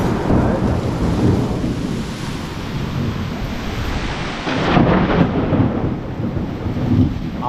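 Heavy thunderstorm with rolling thunder, lightning and rain, a loud continuous roar of rain and wind with deep rumbling swells of thunder building and fading throughout.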